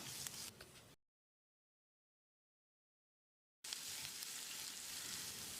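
Garlic and ginger sizzle and crackle in hot oil, steady and close, cut off by a stretch of silence before the frying resumes.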